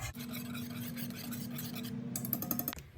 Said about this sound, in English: I'm whisking those together before throwing in my cheeses.